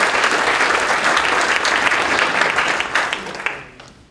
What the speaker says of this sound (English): Let's give our panelists a round of applause as I walk across.